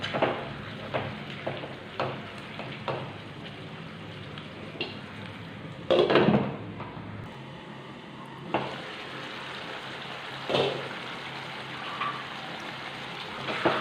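Chicken and tomato masala sizzling in a pan while being stirred, with a steady frying hiss broken by several scraping stir strokes and a few louder clatters.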